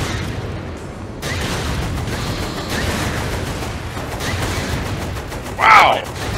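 Continuous video game battle with a tank: dense rapid gunfire and booming explosions roll on without pause, loud and close, with one sharper blast near the end.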